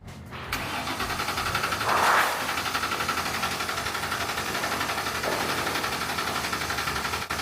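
A Ford Mustang GT with a coolant leak fires up at about two seconds and then settles into a steady, even idle, heard up close with no talk over it.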